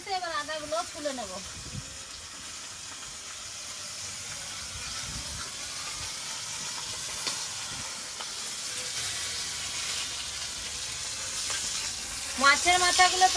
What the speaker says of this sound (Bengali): মাছের মাথাগুলো প্রায় ভাজা হয়ে গেছে, এবার খুন্তি দিয়ে ভেঙে ভালো করে ভেজে নেব।